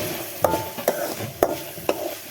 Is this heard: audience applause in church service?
no